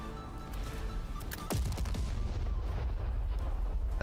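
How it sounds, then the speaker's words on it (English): A turret destroyed by gunfire in a video game: dense rapid shots and booming impacts, with a sharp blast midway followed by continued heavy firing, loud and close. "And they've taken out one of our turrets."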